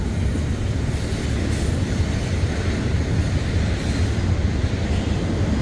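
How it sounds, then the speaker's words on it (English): A train rolls through the small town of Boiling Springs, Pennsylvania, a loud, steady rumble of railcars and wheels on track heard close by from a nearby trail, continuous throughout with no talk. "that train you hear comes by about every 3 hours"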